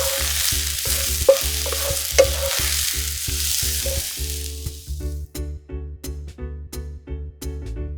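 Mushrooms sizzle in a hot pan as they soften and brown. The frying hiss is loud and continuous, then fades out, with steady rhythmic background music beating underneath.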